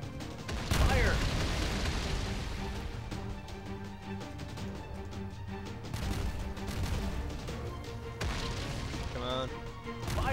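Naval guns firing in the warship game Naval Frontline, a series of heavy booming blasts and crashing impacts, including a loud one early on and more through the middle, over game music and effects.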